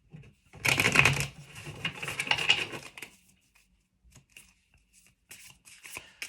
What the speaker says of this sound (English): Let me shuffle it first.